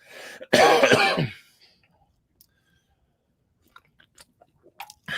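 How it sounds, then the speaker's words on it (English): A single harsh cough bursts out close by, followed by near silence with a few faint clicks and small rustles. "Sorry about the cough."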